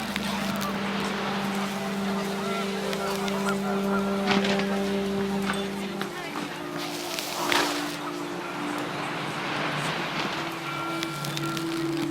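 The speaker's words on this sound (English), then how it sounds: "The wind picked up, and panicked geese appeared and quickly went." Panicked geese honk in the video game What Remains of Edith Finch, several loud, overlapping honks over wind and a steady low hum, with a narrating voice running beneath.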